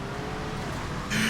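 A car driving in a video game, a steady engine drone that holds at one level and brightens with added high-pitched tone near the end, heard alone in a short burst.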